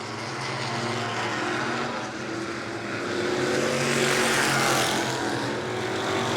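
Loud, steady engine roar of 602 modified race cars circling an oval track at New Smyrna, a continuous droning whine that swells slightly as they pass.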